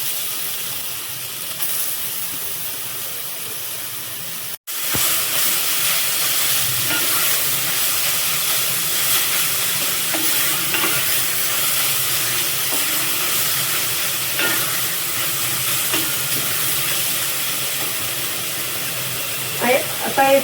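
Pumpkin sautéing in ghee in a hot pan, a steady hiss that starts after a brief cut and runs on evenly, with faint stirring scrapes and a few clatters near the end.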